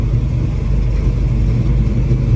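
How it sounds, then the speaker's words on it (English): Old trucks roll past at a small-town parade, their engines giving a steady, loud low rumble close by with no break and no voices. "Got some old trucks coming here."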